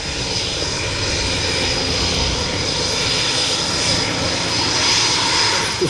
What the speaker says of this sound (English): this recent addition to their fleet, the Enstrom 480. This machine is used to train military helicopter pilots.